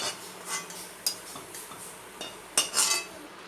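Metal spoon clinking and scraping against a bowl while roasted raisins for laddu are scooped out, a few light, separate clicks with soft rubbing between them, close and quiet.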